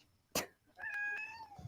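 A cat lets out a single clear meow with a rising then falling tone, preceded by a sharp short sound and followed by a soft low thump, in an otherwise quiet room.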